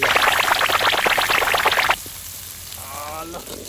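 Shallots drop into hot oil in a pan and sizzle loudly and crackle densely for about two seconds, then the frying settles to a quieter hiss as a voice briefly speaks.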